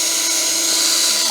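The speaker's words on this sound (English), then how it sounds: "I'm going to drill holes, pilot holes for the screws" Power drill boring pilot holes in a 1x1 wood strip for drywall screws, a steady high whine held for just over a second with no talk.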